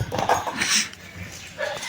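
A village dog whimpers in short, high whines, two or three thin cries close by, with a quiet pause between them.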